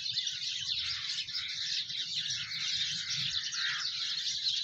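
Birds at the Bannu township zoo in Pakistan, dense continuous chirping and twittering from several birds at once, steady and fairly faint, with a low background hum and no talking.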